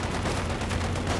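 Rapid, dense M3 gunfire in a Soviets-versus-OKW real-time strategy battle, a loud continuous burst of automatic shots with no pauses and no talking.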